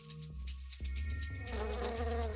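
A steady bee buzzing, close and continuous, with a tonal hum that shifts pitch partway through.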